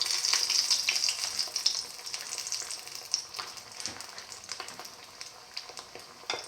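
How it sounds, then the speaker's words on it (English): Chili lamb and fenugreek leaf patties fry in a pan with continuous crackling sizzle, loudest at first and then settling into scattered pops and spits, close up and without speech. "Let it fry."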